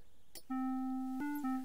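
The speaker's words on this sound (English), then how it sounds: "But he will hear us if we ring that bell." A doorbell chime rings at a house in the King's Quest V adventure game: a clear sustained electronic tone that steps to a new pitch twice, alone and fairly loud after a brief click.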